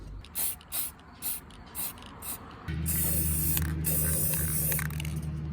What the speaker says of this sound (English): Then we're going to spray this one up in the gold.